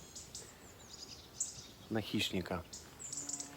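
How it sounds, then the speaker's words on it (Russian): Small birds chirp and tweet faintly near the water in a quiet outdoor setting, with short high calls scattered throughout and someone speaking briefly in the middle. "Так красиво вокруг, вообще просто офигеть. Птички поют"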